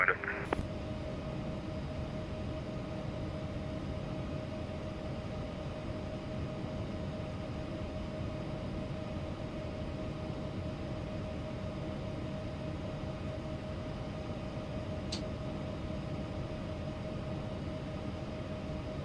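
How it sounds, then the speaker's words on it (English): Steady hum of an auxiliary power unit running on an Embraer E175 in a flight simulator, a constant drone with a fixed tone throughout, with a faint click near the end and quiet talk underneath. "the APU is running right now"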